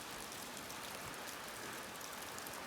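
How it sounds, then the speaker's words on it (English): Steady rain pours down outdoors at a remote Swedish log cabin on a cold August day, a dense continuous hiss filling the whole stretch without pause. "Middle of August, 8 degrees, raining."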